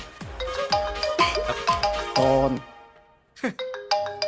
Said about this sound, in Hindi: हिंदुस्तान से फोन बा।